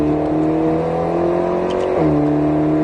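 Alpine A110S sports car on the Grand Circuit du Roussillon, a steady droning engine tone heard from inside, pitch holding then briefly shifting as it accelerates, no talking.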